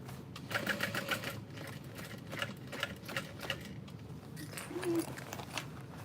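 A sewing machine runs steadily, stitching the side seams of a fabric messenger bag at a slow, controlled pace; the motor's whir is fairly faint and continuous, with a few small clicks.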